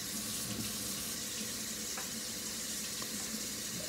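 Harpoon IPA pours from a canned beer draft tap system at home, a steady close hiss of liquid and foam streaming into a glass, continuous and fairly soft with no voices.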